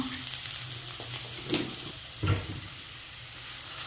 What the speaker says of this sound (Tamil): இப்போ நறுக்கி வச்சுருக்க வெங்காயத்தை போட்டோம்.